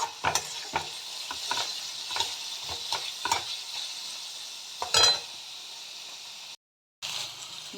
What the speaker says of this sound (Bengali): আমি চাউমিন তৈরি করছি ব্রেকফাস্টের জন্য।